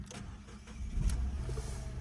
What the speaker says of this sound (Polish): Więc uruchamiamy sobie silnik